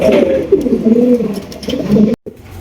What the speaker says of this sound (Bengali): অনেক বড় সাইজের কিং কবুতর